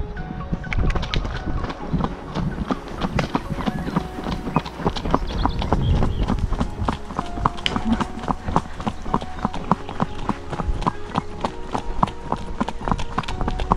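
A horse carries a rider out on a trail, its hooves clip-clopping in a steady, brisk rhythm, close and continuous, with faint background sounds.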